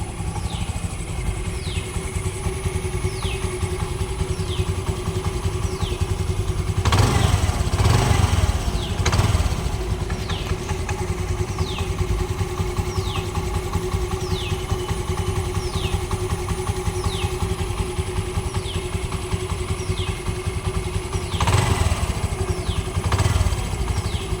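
A used motorcycle with about 47,300 km, engine in good condition, idling steadily nearby with a constant low rumble and a regular ticking rhythm, briefly rising in a couple of short revs.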